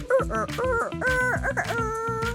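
Someone imitates a chicken with a quick series of clucking, squawking vocal bursts, close and moderately loud.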